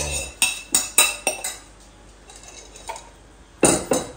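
Fried ingredients, including crunchy paprika, are tossed into a pan of black pepper beef. A metal utensil clanks against the pan in quick bursts of sharp clinks, pauses briefly, then clatters again.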